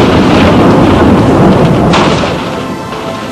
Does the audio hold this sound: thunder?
yes